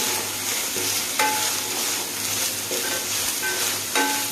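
Curry leaves and ginger-garlic paste fry in a pan for egg fried rice, giving a steady, close sizzle broken by a few sharp spatter pops and faint stirring scrapes.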